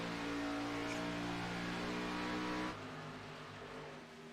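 Race cars roar past on an oval track in a tight pack, engines loud and close with a steady revving drone that drops away as they pass, continuing more faintly afterward.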